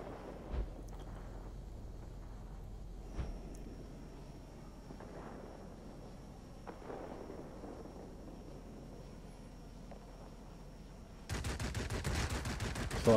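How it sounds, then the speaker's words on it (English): The tail gunner of an IL-40 aircraft in World of Warplanes fires a machine gun. A low engine drone with occasional faint thumps gives way to a loud, sustained rapid-fire burst over the final two seconds. "Tail gunner's already got somebody under fire in pretty good shape there"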